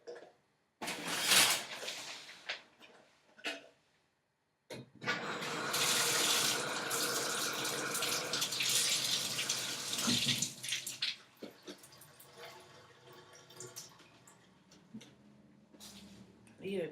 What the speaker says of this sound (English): I need to put water in here, so let me get some water in here.